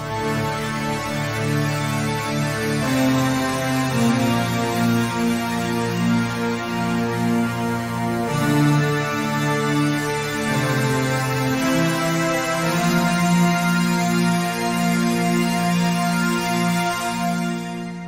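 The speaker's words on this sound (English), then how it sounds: "it has a very distinct classic kind of synth sound, and it's what I chose to use for the melody" A classic analog synth keyboard plays a sustained melody of smooth held notes with rich harmonics, shifting pitch every few seconds, steady and alone without any voice.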